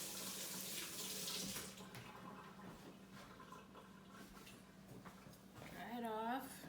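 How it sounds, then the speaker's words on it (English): Hot water runs steadily from a kitchen tap, a continuous rushing splash while a person talks over it. "I'm going to heat this up. Just with hot water."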